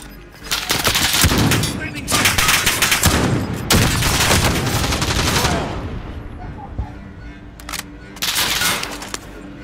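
Gunfire in Call of Duty: Modern Warfare on Rebirth Island rattles in loud, rapid automatic bursts, several long volleys with short gaps, a player's voice occasionally heard under the shooting.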